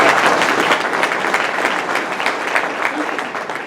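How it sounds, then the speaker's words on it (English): Big round of applause from a Rotary club meeting audience for a golf tournament committee, dense steady clapping from many hands that carries through the whole stretch at fairly close range. "Let's give them a big round of"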